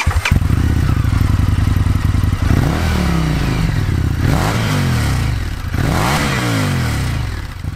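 Indian FTR S 1200 V-twin motorcycle idling loudly up close, then revved three times in rising and falling sweeps with mechanical clatter, alone without talking.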